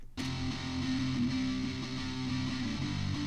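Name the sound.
tinny electric guitar track played back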